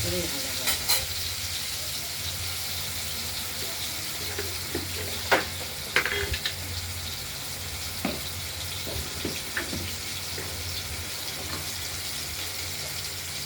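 Cut potatoes frying in oil tempered with whole spices give a steady, moderate sizzle, with a few sharp stirring clicks and scrapes scattered through and faint voices in the background.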